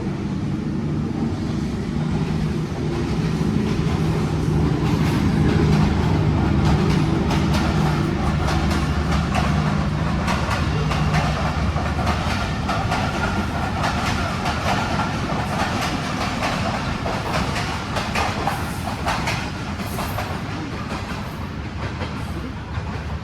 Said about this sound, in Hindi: आ रही है ट्रेन।